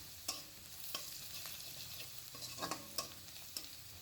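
Fried onions with turmeric and chili powder stirred in a pan over low heat, a soft continuous sizzle broken by irregular spoon taps and scrapes, quiet and close, no voices.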